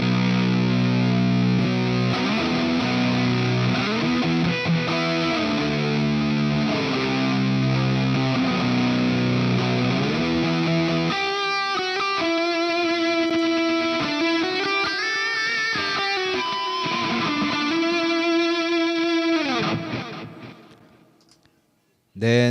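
A Valeton GP50 electric guitar patch with distortion and delay plays sustained, saturated chords and then brighter, choppier phrases with echoing repeats, loud and continuous, before the sound tails off near the end.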